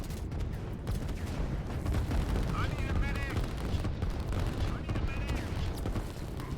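Artillery and gunfire in a real-time strategy video game: a dense, continuous rumble of booms and rapid gun bursts at moderate level, with small high chirping effects layered over the battle noise.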